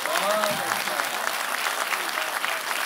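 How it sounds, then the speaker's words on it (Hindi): A mushaira poetry recital audience breaks into loud, sustained applause, dense clapping filling the hall with a few voices calling out briefly at the start. "हाँ बिल्कुल, जोरदार तालियां।"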